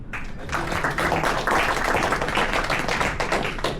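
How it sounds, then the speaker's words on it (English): Audience applause for a keynote speaker at a Microsoft Azure bootcamp in Kuala Lumpur, a steady dense wash of clapping that holds at a fairly loud level for the whole stretch. "Let's give a round of applause to Mr. Lucky."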